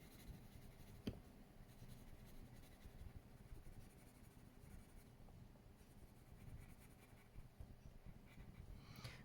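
Prismacolor colored pencil shading on paper, a faint, continuous scratchy rasp of strokes with one brief louder tap, very quiet and close.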